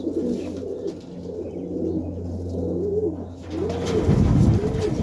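Serbian highflyer pigeons cooing in a loft on a cold winter morning, repeated rolling low coos overlapping one another, close and fairly loud with a fuller burst toward the end.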